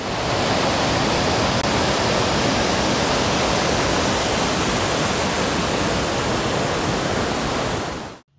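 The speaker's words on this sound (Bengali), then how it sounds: "কলকল আওয়াজ আর পাখির ডাক শুনতে শুনতে আমরা বসে পড়লাম খেতে।" A waterfall stream rushes beside a hillside restaurant at Apple Stone in the Dooars, a steady, dense roar of falling water that fills every moment at close range until it cuts off abruptly.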